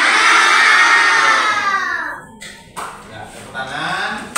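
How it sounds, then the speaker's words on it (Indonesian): Students in a classroom clap their hands together in a dense, loud burst for about two seconds, which then fades into quieter room noise with a few scattered sounds. "Oke, tepuk tangan."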